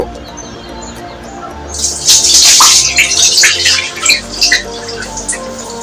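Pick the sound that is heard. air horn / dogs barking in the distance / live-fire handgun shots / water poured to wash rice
water poured to wash rice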